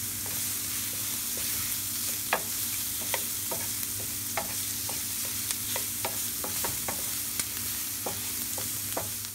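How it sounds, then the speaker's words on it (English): Slices of puffball mushroom sauté in a hot pan, giving a steady sizzle and frying hiss broken by frequent sharp scraping stirs of a utensil, with no talking. "Saute until they turn brown."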